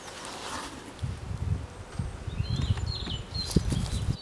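Honeybees buzz around a hive at a winter apiary, a close, uneven low hum in rising and falling bursts with a few brief higher tones, no talk.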